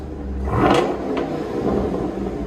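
A car engine with an expensive aftermarket exhaust revs up sharply, then settles back to a rumbling idle, close and fairly loud, with a second smaller rev shortly after.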